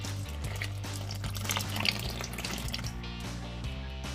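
Liquid pouring steadily into a bowl of rainbow cake mixture, a continuous watery trickle with a low hum in the background.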